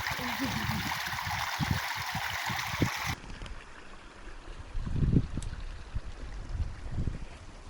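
Rushing water of a mountain stream in the Carpathians, a dense continuous roar that fills the first three seconds, then drops to a duller, quieter flow beneath low rumbles and faint handling noise.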